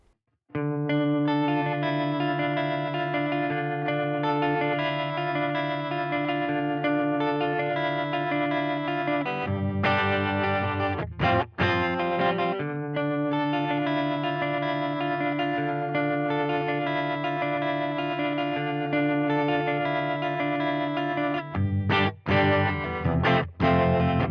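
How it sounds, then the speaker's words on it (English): Sustained chords on electric guitar through a Walrus Audio Monument harmonic tremolo pedal, a throbbing, swirling effect like a rotating speaker, with a short busy passage midway, steady and fairly loud. "you can almost get a kind of a Leslie speaker, a rotating speaker kind of sound"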